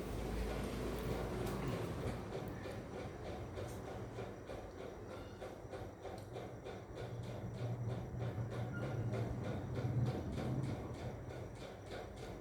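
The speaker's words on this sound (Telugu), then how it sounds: "ఇప్పుడు ట్రైన్ అయితే తీసుకున్నాం. ఇక లైట్ కూడా వస్తుంది. అండ్ ఇక్కడ ఇంజన్ రన్ అవుతుంది." A battery toy train with a light runs on a ten-piece track, making a steady mechanical whir with rhythmic clicking of the wheels over the rail joints, close and fairly loud, with no talk.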